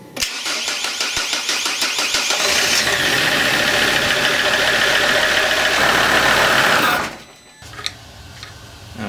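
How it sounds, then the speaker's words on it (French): SsangYong Rodius engine cranks and fires, then runs at a loud, steady idle for several seconds before being switched off, followed by quieter mechanical clicks. "Je vais démarrer le moteur quelques secondes pour actionner la pompe de la direction assistée"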